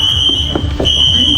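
A fire alarm in a movie theater sounds as a steady, piercing high tone that briefly drops out and then resumes over a low murmur of background noise.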